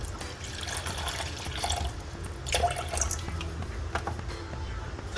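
Water pours steadily into a protein shaker bottle during pre-workout shake prep in a kitchen, a continuous close splashing stream with a few brighter drips, no talk.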